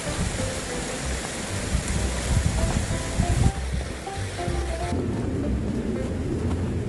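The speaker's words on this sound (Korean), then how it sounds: "이 계곡 소리 들으면서 눈 밟으면서 내려가니까 힐링이 따로 없습니다" Steady rushing of a mountain valley stream flowing in winter through a snowy forest trail, a continuous broadband wash that stays close and fairly loud, with faint crunching of footsteps in snow underneath.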